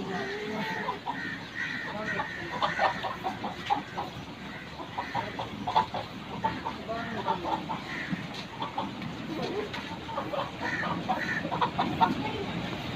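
Aseel hens clucking in short, scattered bursts at moderate distance, mixed with other fowl sounds and background chatter of people talking nearby.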